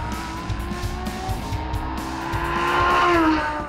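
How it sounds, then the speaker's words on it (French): Lamborghini Huracán Spyder accelerating hard along a damp race track just after rain, its engine note rising steadily and growing louder toward the end, with a sustained tonal whine and tire noise over a rumbling low end. "aujourd'hui, on va rouler le Lamborghini Huracan Spider, une machine absolument extraordinaire"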